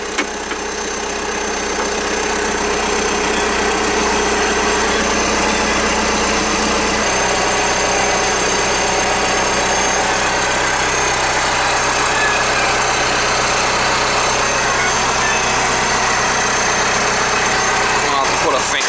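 A Trackless MT5TD tractor engine idles loud and close with its muffler removed. It gives a steady, raw drone with a slight shift partway through and keeps going for the whole stretch, with some talk underneath.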